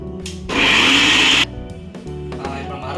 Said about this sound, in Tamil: இப்போ நம்ம போட்டு அரைச்சிக்கலாம்.